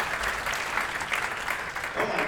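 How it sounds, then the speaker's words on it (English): An audience breaks into steady, fairly loud applause, many hands clapping together throughout with a voice faintly heard underneath. "Give them an applause, please."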